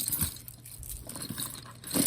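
Keys jangle and clink as they are dropped into a bag alongside wallets and pouches, with short metallic rattles and rustling at the start and again near the end.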